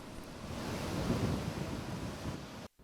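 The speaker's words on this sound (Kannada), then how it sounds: "ಕಾರವಾರ ಭಾಗದಲ್ಲೂ ಹೆಚ್ಚಿನ ಮಳೆ ಆದ್ದರಿಂದ ಕದ್ರಾ ಜಲಾಶಯದಿಂದ ಈಗ ನೀರು ಬಿಟ್ಟಿರುವಂಥದ್ದು" Floodwater gushes from the opened Kadra dam gates during heavy rain near Karwar in coastal Uttara Kannada, a loud, steady broadband roar with a wind-like rush that cuts off abruptly near the end.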